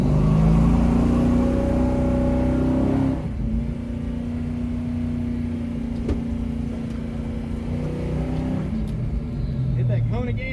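A rusty 1969 Dodge Charger runs an autocross course, its engine droning steadily at mid pitch, briefly louder at first, then settling into a sustained hum with small pitch shifts as it slows, with a voice talking over it.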